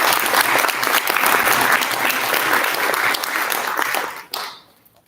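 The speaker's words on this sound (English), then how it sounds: "I just want to give a round of applause for these following cadets" Round of applause for cadets at a school board meeting, a full roomful of steady clapping that fades out near the end, followed by a brief trailing sound.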